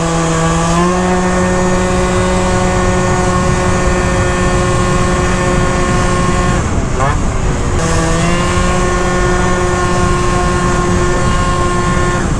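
A Malaguti Phantom F12 scooter with a tuned 70cc two-stroke engine runs steady and loud throughout, its buzzing note dipping briefly near the middle before climbing back, with a voice talking over it.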